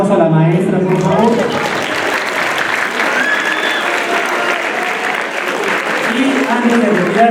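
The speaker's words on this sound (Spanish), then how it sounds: "Démosle otro fuerte aplauso a la maestra," An audience applauds a teacher after a talk on handling teenagers' emotions, loud continuous clapping from a crowd close by, with voices mixed in throughout.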